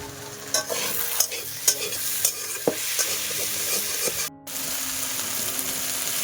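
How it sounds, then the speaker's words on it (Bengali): Malabar spinach greens sizzle loudly in a hot pan while a spatula scrapes and stirs in quick strokes, with a brief dip in the hiss partway through. "শাকটা ভাজা হতে হতে"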